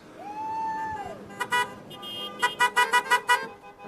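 A passing logging truck sounds its horn in a burst of repeated short honks after an earlier long tone and a brief double blast, fairly close over low road rumble.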